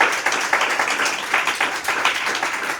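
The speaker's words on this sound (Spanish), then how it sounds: "Un fuerte aplauso y agradecimiento al espacio de Lemuria" A small audience at a community workshop space claps together, the individual hand claps audible in an uneven, moderately loud patter that holds steady throughout.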